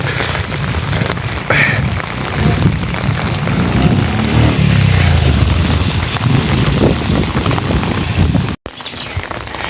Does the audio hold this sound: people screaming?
no